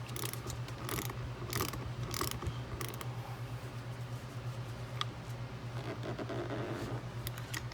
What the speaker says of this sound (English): trying to get this thing down to about 25 foot-pounds for this guy is all you need.